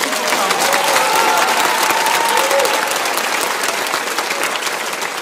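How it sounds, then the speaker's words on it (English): An audience at an evening awards ceremony breaks into loud, sustained applause, a thick steady roar of many hands that tapers slightly toward the end, with a faint voice briefly heard over it. "So I think we can give them a round of applause"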